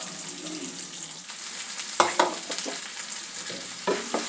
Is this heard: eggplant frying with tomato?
yes